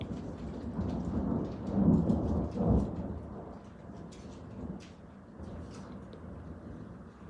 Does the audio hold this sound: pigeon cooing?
no